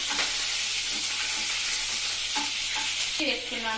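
Three green chillies sizzle in hot oil, a steady bright frying hiss broken by a few spoon scrapes and a louder crackling burst near the end, with no voices.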